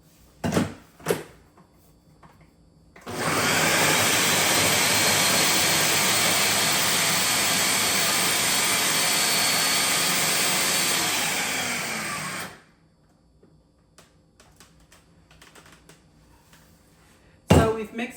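Cold cubed butter being mixed into pie dough for a lemon lime meringue pie, a loud steady machine whir running for about ten seconds between quiet stretches with small clicks and bumps.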